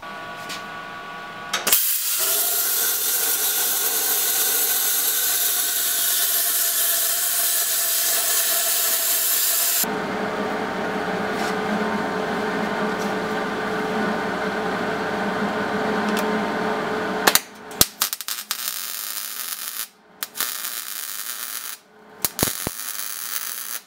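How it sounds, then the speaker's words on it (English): A steady hissing, roaring torch cuts stainless steel tubing for about fifteen seconds with a shift in tone partway, followed by scattered clanks and knocks of metal. "So we're just going to cut them out with a torch."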